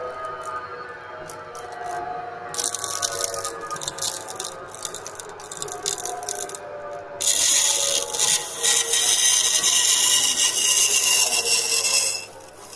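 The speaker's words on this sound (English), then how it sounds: "So we use this abrasive wire to cut the very hard forms." Abrasive wire slicing through very hard foam at a foam machinery factory, a steady rasping, sawing drone that starts after a quiet lead-in and grows louder and harsher partway through before stopping near the end.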